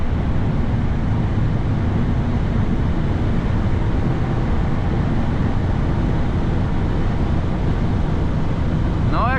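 A 2006 Mercedes CL600 with a 517 hp engine accelerates on the autobahn, giving a dense, continuous roar of engine, tyre and wind noise from inside the cabin.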